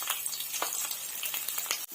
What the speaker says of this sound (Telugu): ఆనియన్స్ ఫ్రై చేసుకుంటానండి. గోల్డెన్ బ్రౌన్ కలర్ వచ్చేంత వరకు నేను ఫ్రై చేసుకుంటాను ఆనియన్స్.